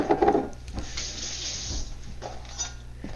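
Water poured from a cup into a boxed cake mix with oil, a soft trickling splash that tapers off after a couple of seconds.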